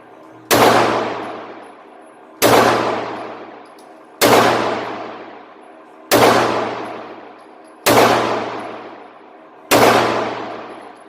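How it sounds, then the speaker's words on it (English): Six single shots from a Hi-Point C9 pistol ring out about two seconds apart, each a sharp loud crack that decays into a ringing echo. "we're just going to take a couple of shots here and see how we do"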